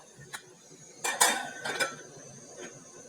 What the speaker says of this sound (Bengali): এখন একটু নেড়ে দিই, নেড়ে দিয়ে এটা ঢাকা দিয়ে কিছুক্ষণ ফুটতে দেবো।